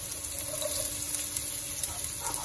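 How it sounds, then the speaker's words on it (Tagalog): Chopped onion hitting hot oil in a pan for fried kangkong, giving a steady, dense hiss of sizzling that holds evenly throughout with no one talking. "So mainit na, lagyan na natin yung sibuyas."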